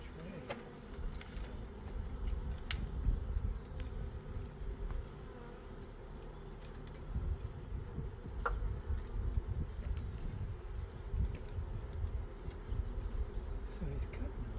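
A swarm of bees hums in a continuous low buzz close by, with rustling and a few sharp knocks, and birds chirp at intervals in the background.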